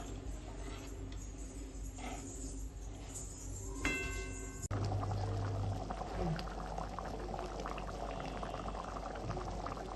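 Chole gravy bubbling up to a boil in a pot, a thick, steady burble close by with a brief pouring splash partway through and faint voices in the background.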